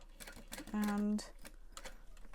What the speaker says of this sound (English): I'm sewing across the end, pivoting.